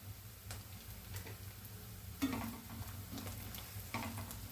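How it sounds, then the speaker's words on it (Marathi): Turmeric fries in a little hot oil, a faint low sizzle with a few distinct spoon taps and scrapes against the pan as it is stirred, close and quiet, no voices. "हळद चांगले तेलात तळून देऊ."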